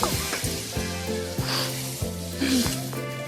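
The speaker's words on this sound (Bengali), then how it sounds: "জল দিয়ে একবার নাড়িয়ে" Snail curry stirred in a pan after water goes in: soft sizzling with stirring strokes recurring at a fairly even pace over a steady tonal background.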